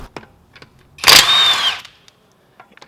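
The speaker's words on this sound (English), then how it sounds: "these ratcheting guns, you don't have to loosen up the lug nuts on the ground because this is powerful enough to remove the wheel" A ratcheting impact gun works a lug nut on a 2018 Mercedes C300 wheel in one loud, close burst of about a second, with a whining spin and faint clicks and handling noise before and after.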